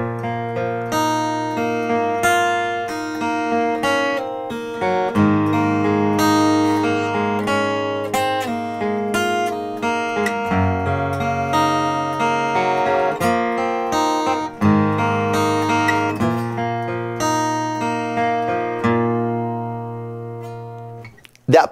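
Strummed acoustic guitar chords change steadily in a slow progression, each strum ringing clearly and loud, with no voices.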